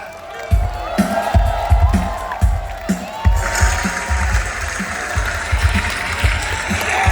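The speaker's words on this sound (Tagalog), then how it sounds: "Sampung palakpak" A crowd at a political rally on EDSA claps and cheers as a senator arrives, with steady dense clapping, louder bursts and low thumps, and shouted voices mixed throughout.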